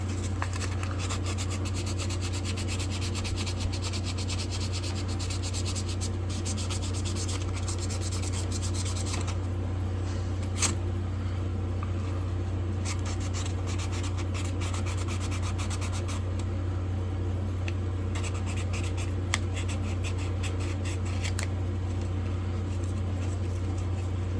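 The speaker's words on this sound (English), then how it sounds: "A little bit of cleaning up on this brass barrel nut right here." A brass barrel nut on a vintage German-made knife being cleaned and rubbed, giving a steady faint scratchy friction sound that continues for the whole stretch over a low background hum, with no talking.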